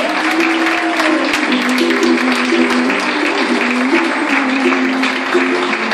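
Applause from the audience at a charity singing event in northwest Gran Canaria, a steady loud wash of clapping over a sustained musical tone throughout.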